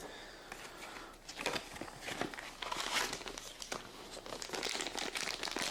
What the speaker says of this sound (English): so let's go ahead and rip this bag open.